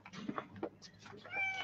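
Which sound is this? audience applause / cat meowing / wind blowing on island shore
cat meowing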